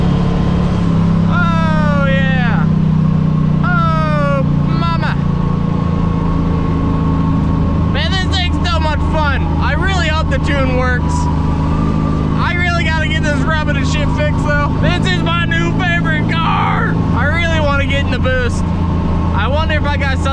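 An LS twin-turbo Mustang cruises along with a steady low engine drone running throughout, while people talk and exclaim loudly over it.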